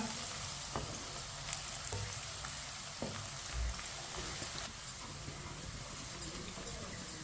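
Onion and garlic fry in a pan over a medium flame, giving a steady soft sizzle with occasional scraping clicks as a spoon stirs them.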